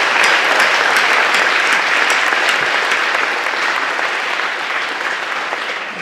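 An audience at a high school fall band concert applauds the squad leaders, with loud, dense, sustained clapping from a full crowd that tapers slightly toward the end.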